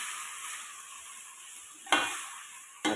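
Chayote and onion sautéing in a pan for a spicy chutney, with a steady close sizzle and two sharp stirring scrapes near the end.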